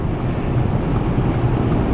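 Wind blowing outdoors on a cold, sunny day: a constant low buffeting rumble against the microphone, with no voices.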